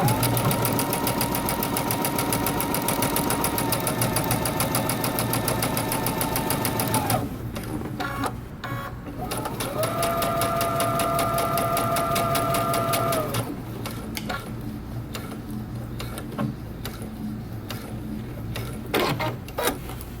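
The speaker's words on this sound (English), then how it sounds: "we're going to stitch using 5/8 of an inch seam allowance around the edge" A sewing machine runs a pocket lining seam in long continuous runs of fast, even stitching, with a short pause in the middle and a softer, quieter stretch near the end, heard up close.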